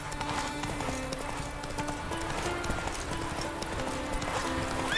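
Roach, a horse in The Witcher 3, gallops with a steady, rapid clip-clop of hooves close by that continues throughout, with a busy game background underneath.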